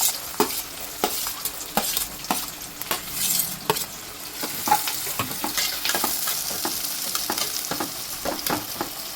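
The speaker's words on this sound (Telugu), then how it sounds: "ఆయిల్ మగ్గింది, ఆనియన్స్ వేస్తున్నాం." Chopped onions frying in hot oil in a pan for a gongura prawn curry, a continuous sizzle broken by repeated sharp stirring scrapes and clinks of a spoon against the pan, close and fairly loud.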